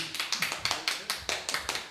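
Applause from a talk show audience welcoming a guest, heard as a quick run of sharp, regular claps, close and moderately loud.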